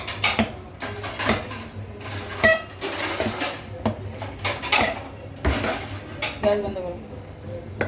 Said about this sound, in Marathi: चमचा फटाफट फटफटा हलवायचा